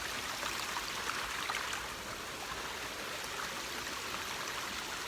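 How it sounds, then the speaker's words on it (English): Water rushes steadily down a flooded forest footpath near Square Corner and Silton Forest, a continuous broadband stream-like gush with a brief surge early on, close and fairly loud, no voices. "The footpath has officially turned into a river"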